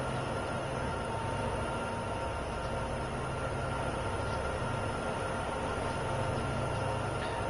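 A freight train in Train Sim World 2 on Sherman Hill runs with a steady, dense rumble and hiss of wheels on rail, continuous and loud throughout with no break.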